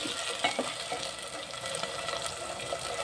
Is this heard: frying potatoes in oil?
yes